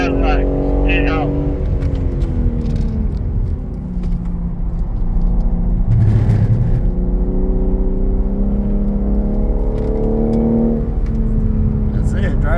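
A green BMW M3 Competition pulls out of the pit lane at a racetrack, its engine revving up through rising gear pulls, loud and close, with a second car's tone and people talking over it.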